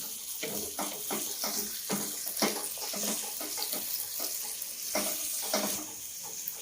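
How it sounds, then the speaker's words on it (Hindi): Chicken stock splashes into a hot karahi of desi chicken, setting off rough bursts of loud sizzling and bubbling that rise and fall, with no talking. "ये हम यखनी का छट्टा लगाएंगे इसको"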